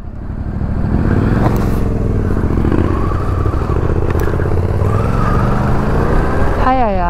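Motorcycle ridden off-road through woodland brush, the engine droning loudly and steadily close by with shifting pitch, wind buffeting and rattling over it, and a voice speaking briefly over the ride.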